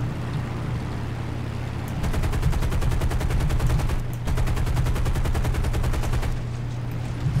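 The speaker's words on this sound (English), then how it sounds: "All those 50 caliber machine guns are just absolutely devastating." Heavy .50 caliber machine guns on a PBJ-1H/PBJ-1J medium bomber in the War Thunder video game fire in long, loud, rapid sustained bursts, with a brief pause between two bursts.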